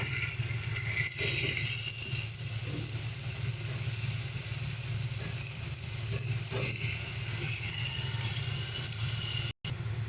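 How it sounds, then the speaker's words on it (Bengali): Steady frying hiss and crackle of a ground green chilli and ginger paste in a hot pan, continuous and fairly loud, with a brief cut near the end. "ভালো করে মশলাটা ভেজে নেব, বাটা মশলাটা"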